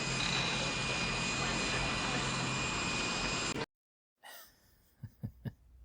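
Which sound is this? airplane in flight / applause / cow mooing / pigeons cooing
airplane in flight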